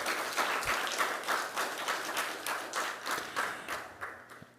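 An audience at a journalism prize ceremony applauds the finalists with a sustained, moderately distant patter of many hands clapping that fades slightly toward the end.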